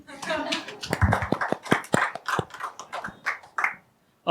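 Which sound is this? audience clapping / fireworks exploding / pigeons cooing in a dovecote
audience clapping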